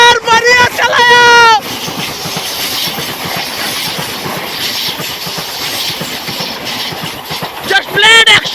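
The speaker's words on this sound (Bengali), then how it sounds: "আসতে চলেছে the king sleeper Vande Bharat express." A Vande Bharat sleeper express rushes past up close with a loud, continuous rumble and rhythmic clatter of wheels on rails. Bright, tonal blasts stand out at the start and again near the end.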